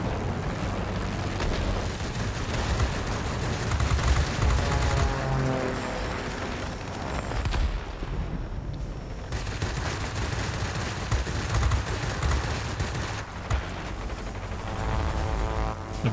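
Anti-aircraft fire in World of Warplanes keeps up a dense, continuous barrage of bursting flak and rattling gunfire. The roar stays steady and fairly loud throughout, with no talk over it.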